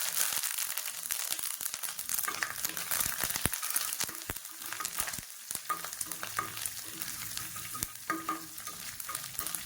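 Steady crackling sizzle of spices and curry leaves frying in hot oil for tempering, loud and close, with sharp pops and stirring scrapes throughout.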